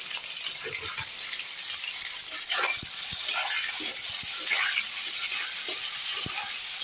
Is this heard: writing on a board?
no